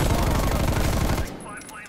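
Rapid automatic gunfire from the online shooter Call of Duty: Black Ops Cold War, a dense loud burst of shots for over a second that then cuts off abruptly, leaving quieter game sounds.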